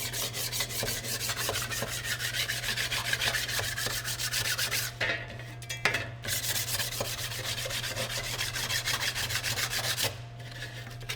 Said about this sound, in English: I'm going to use a sanding block, combination sanding block and the Scotch pad.